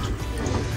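Water poured from a cup into a rice cooker while cooking rice, a brief, steady, close-up splashing fill with no voices.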